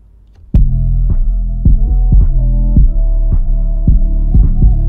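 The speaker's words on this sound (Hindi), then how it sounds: "डिस्टॉर्शन ऐड कर रहा है।" A mastered music track runs through a limiter that adds slight distortion, giving heavy, punchy low-end thumps in a steady rhythm over a sustained bass drone. It is loud and dense throughout after a sudden start, with no voices.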